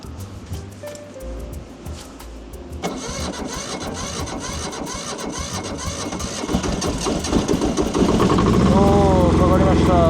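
A mini excavator's diesel engine cranks and then catches. It settles into a steady, close mechanical rumble that grows louder and rougher toward the end, and a voice is faintly heard near the close.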